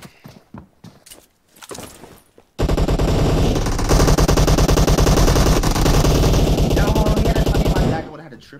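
Sustained automatic gunfire in a team deathmatch video game, loud rapid bursts running for several seconds after a few scattered clicks and shots, with some voices in the background.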